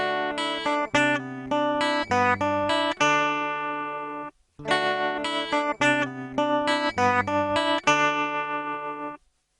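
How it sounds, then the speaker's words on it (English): A bright synthesized melody with a rapid, pulsing throb in its volume, played in two similar phrases separated by a short gap. "Tremolo sounds like this."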